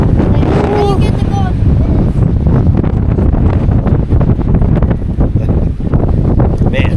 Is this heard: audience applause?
no